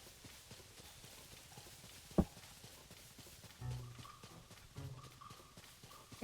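Horse hooves clip-clop in The Legend of Zelda: Tears of the Kingdom as a soft, steady patter of light hoofbeats with a few sharper knocks and thuds, quiet throughout.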